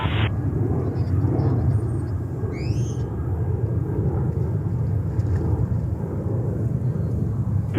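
A JetBlue airliner takes off from runway 13 right at JFK Airport in New York, a steady, broad, distant rumble that holds for the whole stretch, with a brief faint high chirp partway through and no talking.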